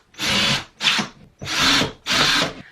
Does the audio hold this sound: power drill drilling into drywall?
yes